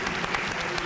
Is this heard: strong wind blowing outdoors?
no